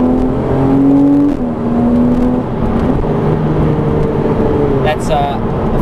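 Porsche Cayman R engine revving and pulling hard, a rising and falling mechanical drone with shifting pitch, heard from inside the car while it is driven.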